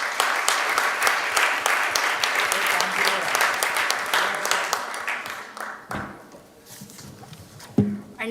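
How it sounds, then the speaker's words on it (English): An audience at a US-India jewelry industry trade symposium applauds steadily, a lively clatter of many hands that thins out toward the end, with a brief thump near the close. "Let's have a round of applause for Mr. Amish Shah"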